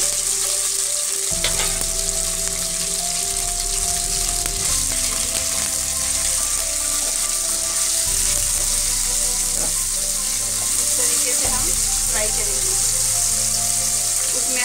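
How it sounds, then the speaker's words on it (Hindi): Small chicken pieces sizzle loudly in hot oil in a pan, a steady crackling fry with occasional stirring and clinks, while sustained tonal hums run underneath throughout. "अब जो चिकन के छोटे छोटे टुकड़े किए हैं मैंने, उसे इस तरीके से डालकर हम फ्राई करेंगे।"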